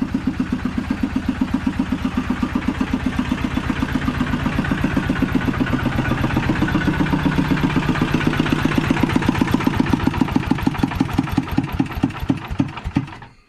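A motorcycle engine idles close by with a steady, rhythmic low putter that holds for about thirteen seconds before cutting off abruptly at the very end.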